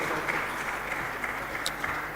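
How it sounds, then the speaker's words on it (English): Audience applause for a winning team at a kids' quiz event, an even, moderately loud patter of clapping with a few sharper individual claps standing out. "A round of applause for them once again"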